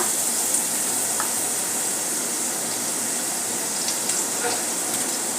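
Onion and ginger-garlic paste sauté with asafoetida in oil in a pan, giving a continuous, fairly loud and even sizzling hiss close by with no break.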